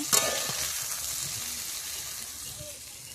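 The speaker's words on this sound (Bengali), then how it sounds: "এখানে আমার কাঁচকলাগুলো ভাজা হয়ে গেছে, আমি এবার তুলে নেব আস্তে আস্তে করে।" Raw banana pieces fry in oil, making a loud continuous crackling sizzle close by, with a brief clatter at the start and faint low sounds beneath.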